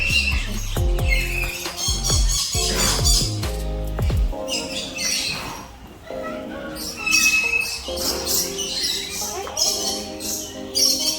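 Birds at Palembang bird park give repeated loud, harsh squawks and chirps at close range amid a busy mix of calls.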